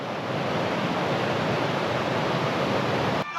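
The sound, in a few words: small waterfall with flowing water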